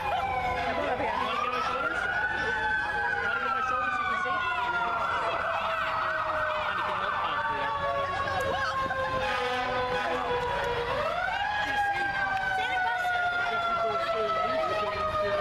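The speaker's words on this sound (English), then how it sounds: "you hear the fire truck?" A fire truck siren wails at a Christmas street parade, its rising and falling tone sweeping up again partway through, loud and steady as the truck carrying Santa passes, with voices nearby.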